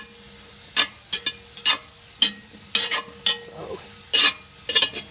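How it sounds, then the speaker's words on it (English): Onions and mushrooms sauté in a pan, with a steady sizzle broken by repeated bursts of stirring and scraping, close and fairly loud, while a voice speaks briefly. "get those onions and mushrooms sauteed"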